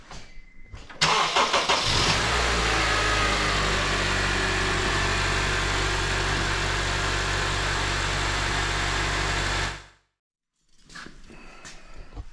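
A car engine cranks and catches after an oil change, then settles into a steady, loud idle with a continuous low rumble before cutting off near the end.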